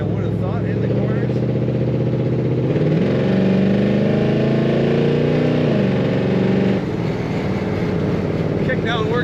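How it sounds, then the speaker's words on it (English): A 1969 Chevrolet Chevelle's exhaust swells as the transmission kicks down, a loud, close engine drone that climbs in pitch midway, holds, then drops back to a steady cruise. "Kickdown working, as you can hear. That lovely exhaust sound."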